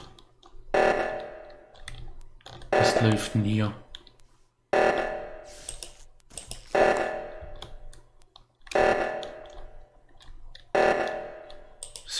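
Sabotage alarm in the video game Among Us, repeating in regular pulsing blasts every couple of seconds while players talk over it.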